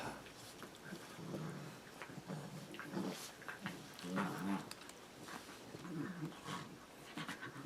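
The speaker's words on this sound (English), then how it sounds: "dogs are going crazy" Excited dogs pant rapidly and steadily, with quick breathy bursts and occasional whimpers close by, moderately quiet indoors.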